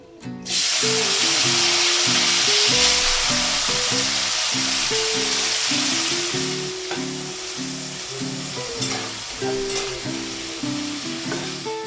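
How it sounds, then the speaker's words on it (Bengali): Potato pieces dropped into hot oil tempered with whole cumin and turmeric, giving a loud, steady sizzle that holds for about twelve seconds, easing slightly toward the end, with a rhythmic tonal pattern running underneath. "গরম হয়ে এসেছে, এবার আলুটা ছেড়ে দিই"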